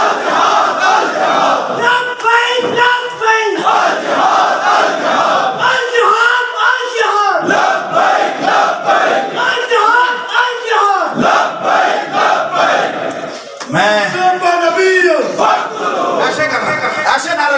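A large crowd at a religious political rally chants slogans in unison, loud rhythmic surges of many voices answering a leader, the shouting continuous throughout.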